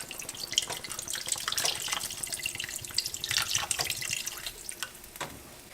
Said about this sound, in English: This is when I use half of the young coconut and I dump it into the clay pot.